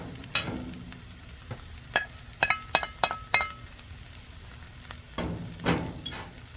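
Garlic fries in a pan with softened onion for a leftover-chicken quesadilla filling, a soft steady sizzle broken by a series of light clinks as a utensil stirs against the pan, close and without talk.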